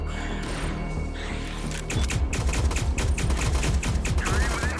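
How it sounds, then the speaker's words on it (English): A thermal rifle in the video game Block Fortress 2 fires in a rapid, loud, sustained burst of repeating shots after a brief lead-in of game noise, with no talking. "Let's try a thermal rifle."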